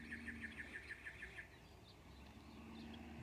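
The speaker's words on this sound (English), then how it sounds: "that's a canyon towhee back there going that trill sort of sound" Canyon towhee singing a rapid trill of evenly spaced bright notes, fairly distant, lasting about a second and a half over a steady outdoor hum in Cottonwood, Arizona.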